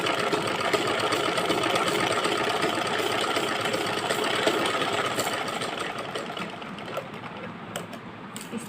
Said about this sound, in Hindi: इससे लेकर हम यहाँ थोड़ी सी गोलाई में सिलाई लेंगे